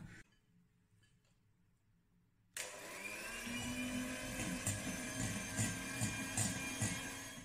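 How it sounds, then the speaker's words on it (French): Food processor switching on after a quiet stretch, then whirring loudly and steadily with a rhythmic churning as it creams softened butter into a paste for an apple cake. "vous pouvez travailler avec votre robot ménager"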